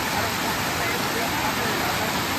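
A mountain stream flows during a trek in Uttarakhand, giving a loud, steady rushing wash of water that continues without a break for the whole stretch.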